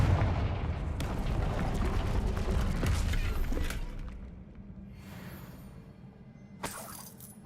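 Confringo explosive spell blasts in a wizarding video game, a string of loud booming, shattering bursts for about four seconds, then quieter rumble and another sharp crack near the end.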